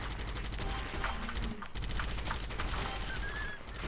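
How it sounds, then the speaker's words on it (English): Continuous rapid minigun fire in the zombie video game Zombie Shooter, a steady loud rattling stream with no breaks, with a faint voice beneath the shooting. "He dropped the minigun. Okay, now we have a minigun."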